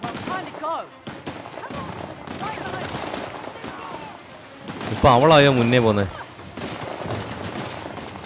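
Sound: gunfire in video game Uncharted: The Lost Legacy

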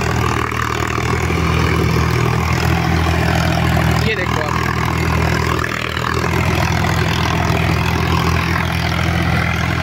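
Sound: Sonalika 745 tractor engine idling

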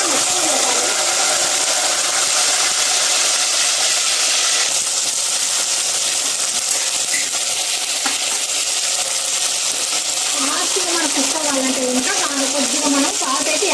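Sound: eggplants frying in hot oil

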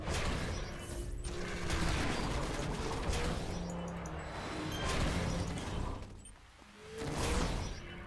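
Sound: dual pistol gunfire in the video game City of Heroes

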